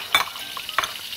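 Meat frying in a pot is turned and stirred, giving two short scraping bursts over a faint steady sizzle, close and fairly quiet.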